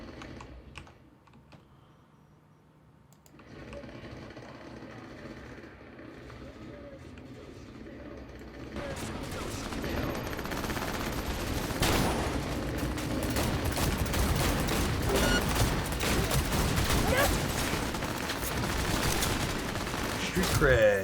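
Rapid bursts of video game gunfire in Cyberpunk 2077, played on an LG CX 48-inch OLED TV, starting faint and building into a dense, continuous clatter of shots and impacts, with voices speaking throughout.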